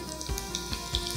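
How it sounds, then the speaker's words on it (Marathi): Mustard and cumin seeds sizzle and crackle in hot oil while tempering, a steady close frying hiss broken by a few soft low pops and stirs. "यामध्ये मोहरी, जिरं, फोडणी अशी ना खमंग बसली पाहिजे."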